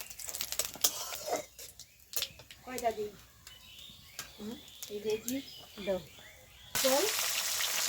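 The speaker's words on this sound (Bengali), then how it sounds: "এই যে এখানে রান্না করা হচ্ছে মাংস" Goat meat sizzles and fries in a pan while voices talk over it, with intermittent stirring and a louder burst of sizzling near the end.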